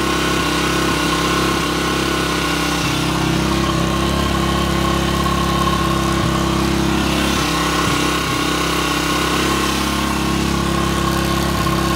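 A Skygo King 150cc motorcycle engine runs steadily during carburetor tuning at around 4,000 RPM, giving a close, loud, continuous drone with no pauses.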